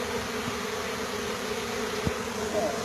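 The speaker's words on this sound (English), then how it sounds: "do you hear the pitch of the bees in the box down here?" Honeybees buzz inside a removal box during a soffit hive removal, a continuous droning hum with a steady pitch, close and moderately loud, with faint knocks underneath.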